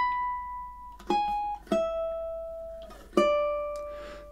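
Ukulele plays measures 17 and 18 of "A Little Flower" in a slower, broken rhythm: a handful of plucked notes and chords with long ringing sustains, close and fairly soft, with no talk.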